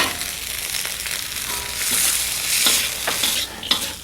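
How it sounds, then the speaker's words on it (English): Vegetables with corn, chickpeas, pre-cooked peanuts, sesame and fresh coriander stirred in a hot pan, giving a steady sizzle and frying hiss with scraping stir strokes and no talk. "Now let's just stir our veggies up here for a few moments"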